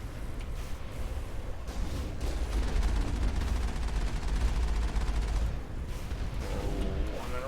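Gunfire in Mass Effect, a sustained rattle of rapid shots and heavy impacts with low rumble, loud and dense for several seconds, then easing off as whirring effects come in.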